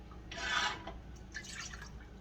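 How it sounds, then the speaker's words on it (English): A cup of water poured into a pot to make a strawberry glaze, two short soft splashing bursts of liquid close by in a quiet kitchen. "So I'm going to start out with 1 cup of water."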